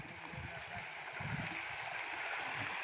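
Pilgrims on the Narmada parikrama wade through the Narmada river carrying their sandals, with water sloshing and splashing around their steps over a steady background murmur of flowing water.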